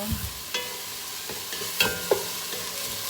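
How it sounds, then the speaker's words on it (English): Spaghetti meat sauce sautéing in a pan, a constant close sizzle broken by several sharp clinks and scrapes of a utensil stirring against the metal. "just let it saute a few more seconds"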